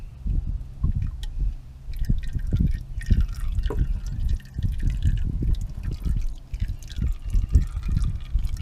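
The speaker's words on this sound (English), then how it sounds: "So you want to just loosen enough to let the oil drain." Old engine oil from a 2007-2013 Chevy 5.3L V8 draining into a catch bucket, an uneven run of close, loud dripping and splashing that keeps going throughout.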